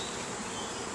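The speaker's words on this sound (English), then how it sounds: "I'd really like to get rid of those bees off there to save me squashing them" Honeybees buzzing on and around a hive, a dense, steady drone of many insects close by, with no pauses across the brief moment.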